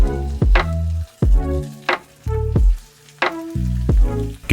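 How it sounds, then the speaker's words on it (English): Nopales searing under a heavy burger press on a hot surface give a steady sizzle that swells and cuts off in repeated pulses, with loud low thumps between them and nobody talking. "To get some sear marks, press down on your nopales using a burger press or something heavy."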